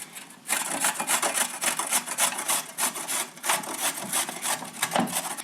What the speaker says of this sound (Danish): Der tager jeg den grove side, som du kan se her, og så river jeg altså bare min gulerod der.